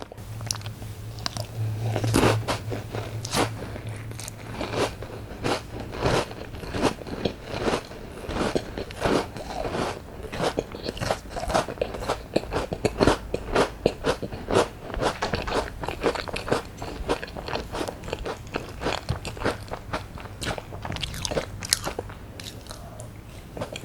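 A Baskin Robbins cheddar cheese cookie is bitten and chewed up close, with repeated crisp crunches and crackles in an uneven rhythm over a steady low hum.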